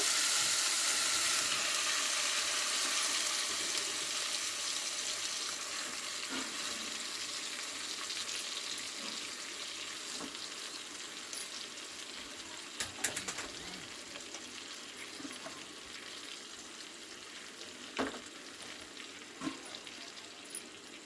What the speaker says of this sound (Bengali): এবার আমি কেটে ধুয়ে রাখা শাকগুলো দিয়ে দেবো।